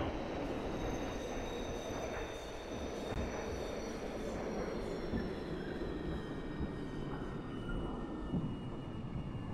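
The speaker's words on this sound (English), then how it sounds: "This is a Coney Island bound Q Express train." A simulated R68 subway train on the Q Express runs steadily, a continuous rumbling roar with faint wheel squeal and rail clatter throughout, close and loud, with no voices.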